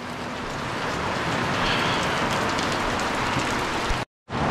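Steady rain falls outdoors during a rib barbecue on a Traeger pellet grill, a loud, dense, continuous hiss of drops on surfaces that cuts out briefly near the end.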